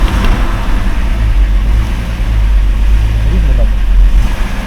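Car engine with a knocking fault, running and being revved while oil pressure is watched: a loud, steady low rumble close by, with someone speaking briefly over it.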